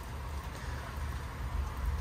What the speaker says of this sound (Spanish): Pero mirad, son las 11 y ya está lloviendo fuerte.